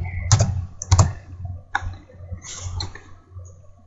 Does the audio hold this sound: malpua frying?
no